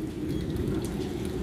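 Heavy rain falls in Gauteng province, South Africa, as a steady, dense wash of noise with a deep low rumble underneath, continuous and unbroken with no voices.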